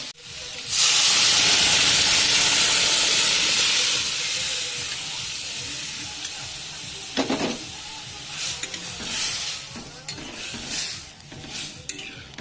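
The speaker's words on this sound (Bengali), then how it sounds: "তাই এবারে সিদ্ধ করা ডালটা ঢেলে দেবো।" Boiled chana dal poured over fried potatoes in a hot pan for an Indian potato-and-dal dish, setting off a loud, steady hiss and sizzle with a few clanks and stirring scrapes as it settles.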